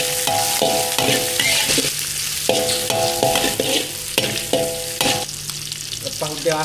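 Shrimp stir-fried with kale in a wok, a loud continuous sizzle broken by repeated metallic clangs of the spatula scraping and tossing, steady and close with no talking.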